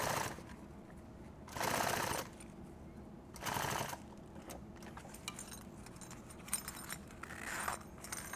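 A sewing machine stitches nylon tactical gear in two short, loud bursts of rapid mechanical clatter, separated by quiet handling noises and small clicks.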